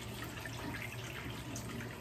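Water runs steadily from a tap into a sink as a face is washed to remove makeup, a constant close splashing flow with no voices.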